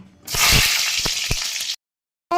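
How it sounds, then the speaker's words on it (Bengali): Eggplant sizzles loudly in hot mustard oil in a wok, a bright, crackling hiss lasting just over a second before cutting to silence, followed by a brief voice at the very end. "প্রথমে আমি বেগুনটা একটু ভেজে হালকা করে তুলে নেব"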